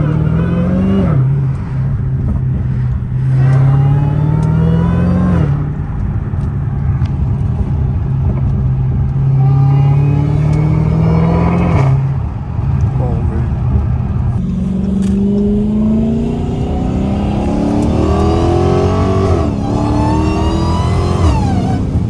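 Dodge Challenger Hellcat Redeye accelerating in repeated pulls, each one bringing a rising supercharger whine over a loud engine roar, with brief lulls between runs as the pitch climbs again and again.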